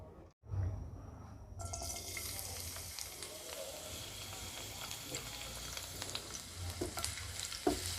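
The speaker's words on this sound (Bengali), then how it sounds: "দুই এক মিনিট ভেজে নেব।" Garlic cubes frying in about a quarter cup of hot oil in a pan: a steady, fairly quiet sizzle that starts abruptly after a brief hiss and continues with light crackles and a few stirring clinks, with no talk.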